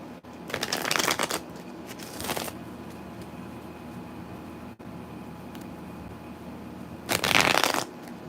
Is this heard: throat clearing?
no